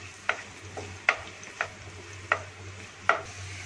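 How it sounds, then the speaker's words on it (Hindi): Onion sautéing in hot oil in a pan for chicken stuffed karela, a faint sizzle under a low steady hum, broken by five sharp spatula scrapes and stirs spaced about a second apart. "प्याज जो है हल्का सा सौते करेंगे।"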